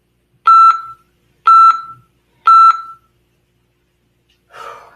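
Tabata interval timer giving three loud, evenly spaced electronic beeps about a second apart, followed by a short burst of softer noise.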